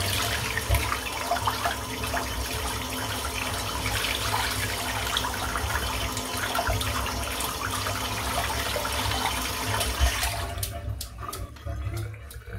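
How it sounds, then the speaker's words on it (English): A shaving brush is rinsed under running tap water, giving a steady, close splashing rush that continues for about ten seconds before giving way to a few softer drips and handling sounds at the end. "So all I've done is rinse the brush out there in the water."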